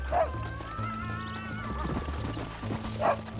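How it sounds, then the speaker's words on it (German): A horse in the video game Red Dead Redemption whinnies twice, once at the start and again near the end, with hoofbeats clopping between the calls over a steady in-game music bed. "Das ist mein Pferd."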